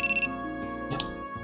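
A phone ringtone in the Momoiro Closet video game plays as four quick bright tones, then a sustained electronic chime continues over the game's background music.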